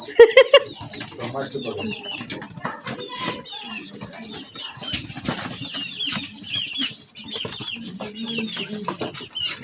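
Chickens being caught in a yard, with bursts of wing flapping and scuffling, a few brief clucks, and people talking nearby throughout.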